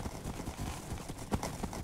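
A horse galloping in Minecraft during a Mario Party race, a quick, fairly quiet run of hoof clip-clops in rapid rhythm.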